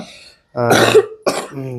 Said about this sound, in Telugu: మామూలుకి ఇప్పుడే దగ్గులు ఎత్తుంది